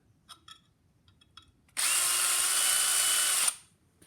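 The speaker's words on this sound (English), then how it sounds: "Well, I use my drill and my flex hone" A power drill spinning a flex hone inside a phonograph motor bearing whirs at high speed for almost two seconds, then spins down, preceded by a few faint clicks and taps.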